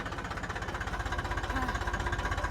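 A moving tractor's engine runs with a loud, close, steady rapid diesel knock, a rhythmic chugging pulse continuing without a break.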